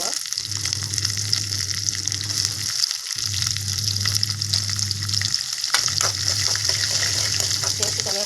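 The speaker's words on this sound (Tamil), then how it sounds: "இப்போ நம்ம வெங்காயம் மிளகாயும் போட்டுக்கலாம்." Onions and chillies hit hot oil and fry with a loud, continuous crackling sizzle, broken by short pauses around the third and fifth seconds, over a low steady hum.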